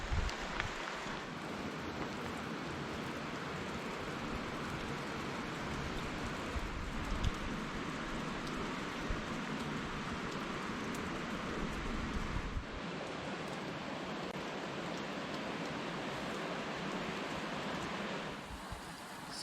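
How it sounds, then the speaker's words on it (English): Rain falls steadily on a backpacking trail in the Grand Canyon, a constant dense hiss heard alone without any talk. "Let's get out of the rain for a little bit."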